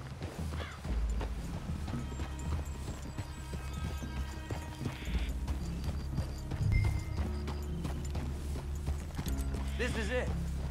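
Horse hooves clopping and an occasional whinny in Red Dead Redemption 2, mixed with game music and voices talking over them throughout.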